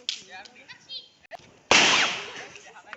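A single sharp Diwali firecracker bursts with a loud, close crack whose noisy roar fades over about a second, after a stretch of people talking nearby.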